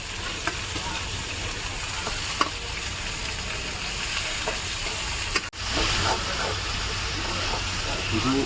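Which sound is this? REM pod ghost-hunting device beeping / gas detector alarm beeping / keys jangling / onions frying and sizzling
onions frying and sizzling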